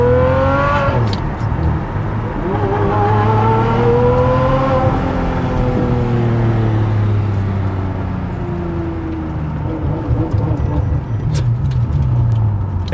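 A Ferrari 599 engine revs loudly and close by, its pitch sweeping up and falling back in repeated climbs, with a steady deep roar underneath throughout.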